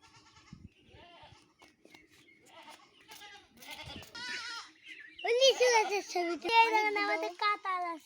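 A young goat bleats several times, loud and close, with a person speaking quietly in between.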